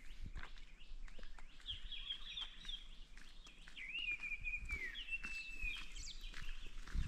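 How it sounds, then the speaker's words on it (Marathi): Birds call outdoors at a misty hilltop spot in Mahabaleshwar, a few thin whistling and chirping calls rising and falling over a low breezy background, fairly faint and distant, with no talk. "लयच पक्षी येतात इथं."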